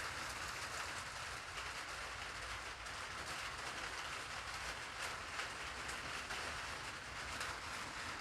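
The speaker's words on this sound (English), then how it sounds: "Anyhow, it's raining." Rain falls steadily, a constant dense hiss of drops on a surface that stays even and unbroken, with no voices.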